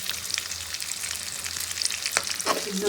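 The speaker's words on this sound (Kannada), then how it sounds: "ಬೆಣ್ಣೆ ಕರ್ಗ ಆದಮೇಲೆ ಒಗ್ಗರಣೆಗೆ ಅಂತ ಈರುಳ್ಳಿ ಹಾಕ್ಕೋತಾ ಇದ್ದೀನಿ." Onions fry in melted butter in a pan for paneer butter masala, a close crackling sizzle with scraping stirs toward the end and no talking.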